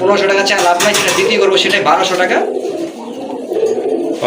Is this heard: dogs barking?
no